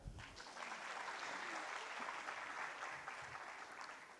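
An audience applauds at a university convocation ceremony, producing a steady, dense patter of many hands clapping. It sounds faint and distant and lasts for several seconds without a break.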